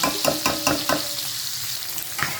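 Eggplant sautéing in a pan with soy sauce sizzles steadily while a spatula scrapes and stirs in a quick run of about five strokes, then one more a moment later, close and clear with no talking.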